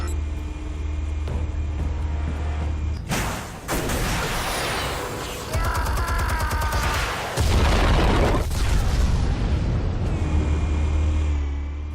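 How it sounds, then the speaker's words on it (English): Loud deep booms and rumbling blasts of explosives detonating in Batman: The Telltale Series, with heavy low rumble throughout and a dense, bright burst of crackling debris in the middle. "Explosives armed. Fire when ready."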